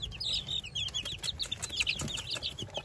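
Barred Rock hens clucking close by in a rapid run of short, chattering calls, with light shuffling and no talk.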